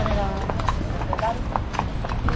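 Horse hooves clip-clop at a steady walking rhythm during a group horse ride in Baguio City, close and distinct, with people talking over them throughout.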